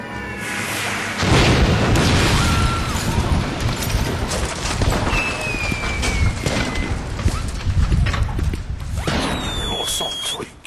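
Fireworks go off in a loud outdoor barrage: repeated booms and crackling bursts with whistling streaks, dense and continuous across the whole stretch, with faint voices in the background.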